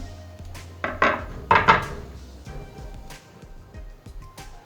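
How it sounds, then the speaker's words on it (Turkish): Knife chopping small peppers on a wooden board, a handful of close, uneven knocks and scrapes against the wood, two louder strikes standing out before the cutting trails off. "küçük küçük de biberlerimi doğrayıp onları da ilave ediyorum"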